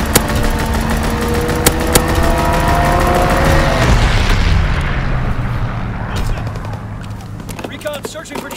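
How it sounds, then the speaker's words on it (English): Strafing run by a fighter plane in the Call of Duty: WWII video game, with dense rolling gunfire, booms and engine roar that build loud and then thin out into scattered shots and a game voice line. "Fighter pilot in your area. Call for a strafing run. Fighter pilot inbound."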